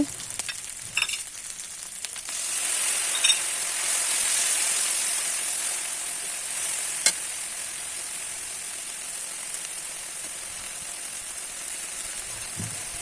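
Spice paste of ginger, cumin and chilli frying in a pan for a spicy fish curry, a steady close sizzle with a few stirring clinks and scrapes, no voices.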